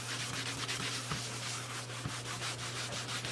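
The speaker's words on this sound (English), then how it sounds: "And the buffing melts the wax right into the leather" Wax buffed into a leather passport wallet by hand, a close, continuous soft rubbing and brushing with a faint steady hum beneath it and a few light taps.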